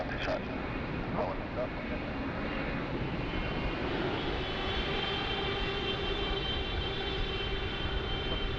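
Jet engines on a United airliner spool up at Sydney Airport during a thunderstorm, a steady roar with a rising whine that swells and holds for several seconds under nearby talk.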